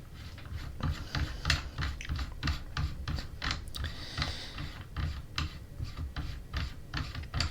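A muzzle brake is twisted off the threaded barrel of a Weihrauch HW30 air rifle, giving a steady string of small, close metallic clicks and scrapes with no talking.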